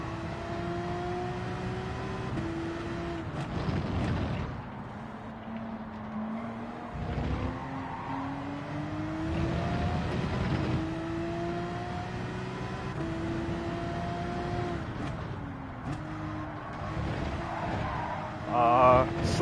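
Race car engines rise and fall through gear changes in Gran Turismo 7, with rising revs, downshifts and brief tire squeal during a race, sustained and fairly loud, while someone commentates over the engine.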